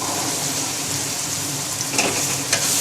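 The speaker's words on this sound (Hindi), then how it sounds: "भुनने के बाद हम इसमें अब चने ऐड कर देंगे," Chickpeas frying in tomato masala in a pan give a loud, steady sizzle like rain, with a couple of brief stirring clinks near the end and no voices.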